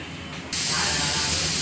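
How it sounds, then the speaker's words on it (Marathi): A kitchen mixer grinding roasted onion, coconut, ginger, garlic and coriander starts abruptly, a loud, steady whirring hiss that runs on alone without pause. "आता याचं सगळं ना वाटण करून घेते मस्त बारीक हो एकदम"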